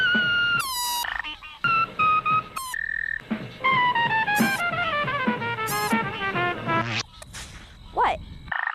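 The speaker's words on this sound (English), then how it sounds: "A frog does the same thing when it blows air out of its mouth and over its vocal cords to make some funky sounds" A frog croaks loudly and close, in a run of repeated bright, pulsing calls with short gaps, some sliding downward in pitch, with no other sound competing.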